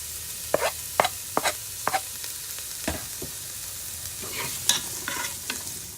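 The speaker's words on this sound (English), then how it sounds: "Now let's brown up these onions." Onions sautéing on the saute setting of a Ninja Foodi, a faint sizzle under a series of sharp scraping and stirring knocks from a utensil, spaced irregularly and close by.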